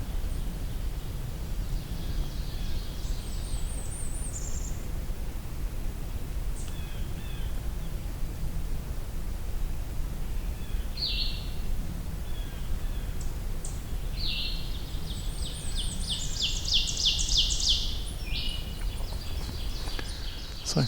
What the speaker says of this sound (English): it's a Blackburnian warbler